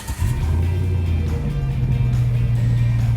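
A 2003-2006 Chevrolet Silverado 5.3L V8 with an MBRP 3-inch exhaust system cranks briefly and fires up, then settles into a steady, deep, loud idle rumble close by.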